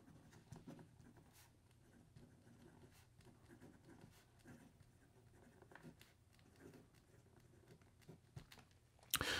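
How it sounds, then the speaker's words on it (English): Fine-nib Narwhal (Nahvalur) Original+ fountain pen scratching across paper in a steady run of soft, close strokes, quiet and continuous with small taps between words, with no talking. "And here we go with the rest of the writing sample."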